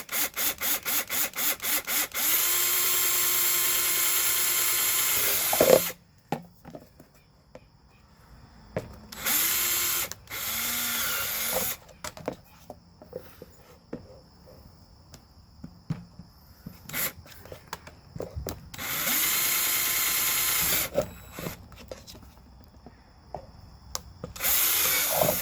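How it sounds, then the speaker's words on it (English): A power drill bores drainage holes into a plate's low lip while a bird feeder is built, whirring in several loud, steady bursts with near silence between them. "I'm going to take my plate and I'm going to drill some drainage holes on this low portion of the lip here"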